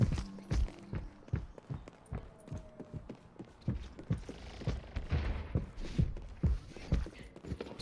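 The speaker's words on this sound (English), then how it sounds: "I hear them big giant footsteps." Heavy, thudding footsteps of a large character in the online shooter Overwatch, landing in a steady stomping rhythm amid scattered game effects and occasional bursts like gunfire, fairly loud throughout.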